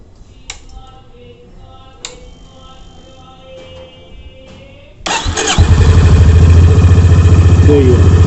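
A Honda H'ness CB350 motorcycle starting up: a few faint clicks and ticks as the ignition is switched, then the engine fires up loudly at close range and settles into a steady, throbbing idle.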